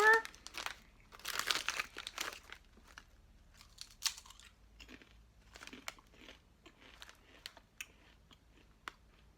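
Snack bag opened at a holiday-themed snack tasting, with bursts of crinkly plastic rustling close up at the start and scattered softer crinkles and handling noises after it.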